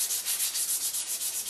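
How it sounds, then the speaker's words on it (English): Rhythmic hand sanding on wood: quick, even back-and-forth strokes with a gritty, scratchy hiss, close up and steady. "I'm just going to do some hand sanding in the direction of the grain now"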